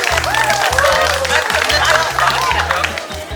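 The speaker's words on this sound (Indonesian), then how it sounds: "Tepuk tangan dulu." Students in a Year 12 class at SMAN 8 Balikpapan applaud in a sustained burst of clapping with crowd murmur, while a strong, rhythmic low thumping of music runs underneath.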